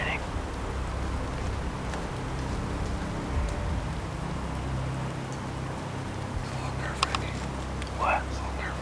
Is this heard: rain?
yes